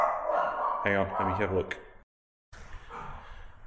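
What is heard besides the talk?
dogs barking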